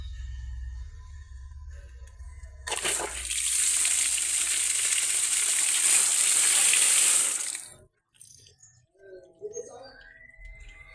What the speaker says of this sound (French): C'est pour le robinet de puisage.